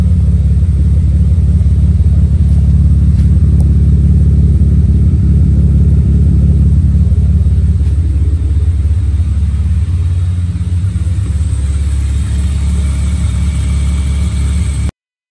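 A BMW E36 engine rumbles loudly up close, idling with some revving surges, a continuous low growl that settles to a steadier idle toward the end.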